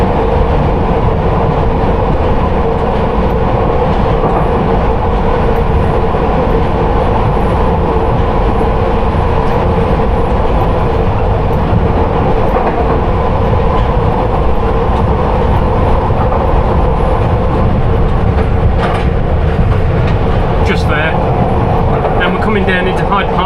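A London Underground Piccadilly line train rumbles loudly downhill through the tunnel toward Hyde Park Corner, heard from the rear cab as a steady roar and drone, with some brief rattles and clicks near the end.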